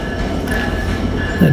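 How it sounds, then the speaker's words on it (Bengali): A passenger train pulls into a station, heading on to an airport stop, with a steady rumbling roll and wheel noise that swells slightly toward the end; no voices. "ট্রেন চলে আসছে, এখন উঠবো।"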